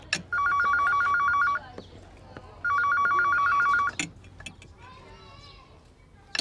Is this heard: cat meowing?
no